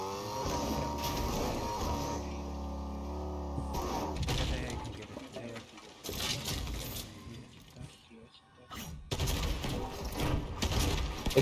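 Sustained video-game gunfire tears into a car in bursts and rattling volleys, mixed with engine and impact noises, and someone talks over parts of the action.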